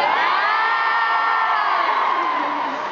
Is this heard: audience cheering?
yes